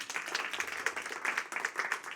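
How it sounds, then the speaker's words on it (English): An audience at a poetry festival claps for Theo, dense, even applause with sharp individual claps standing out, sustained at a moderate level. "Very round of applause for Theo, actually"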